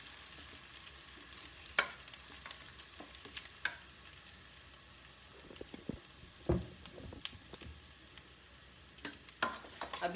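Garlic, ginger, onion and capsicum stir-fry in a pan with a steady soft sizzle, broken by occasional clinks and scrapes of a spatula, heard alone and up close.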